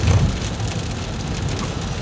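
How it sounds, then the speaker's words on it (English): Heavy rain pours down outdoors on a Saturday, a loud, dense, unbroken hiss of drops striking surfaces with no voices. "It's Saturday, it's pouring rain."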